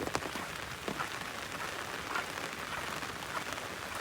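Rain falls steadily on a stormy day, a soft, dense patter of drops on surfaces with a few slightly sharper hits, faint and continuous with no voices.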